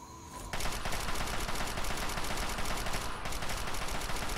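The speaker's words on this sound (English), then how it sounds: "I will, however, use my machine gun." Machine gun fire in the video game Fallout 3, a sustained, loud, continuous stream of rapid automatic shots that starts abruptly after a brief quieter moment and runs steadily to the end.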